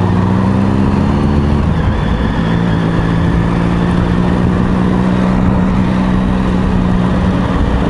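A Triumph Sprint 1050 ABS motorcycle engine burbles loudly and steadily while riding on the road, its pitch dipping and settling as the throttle changes, with no talking.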